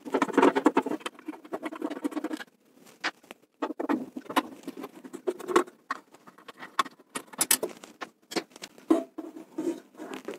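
Two screws are worked loose from a combi boiler fan motor, giving close, irregular metallic scraping and clicking with short pauses, no talk.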